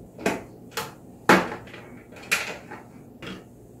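Plastic clicks and knocks while a screw is undone and the fan is lifted out from the base of a Winia Air Washer Sweet Candle evaporative humidifier; about five separate sharp taps, spaced irregularly, close by.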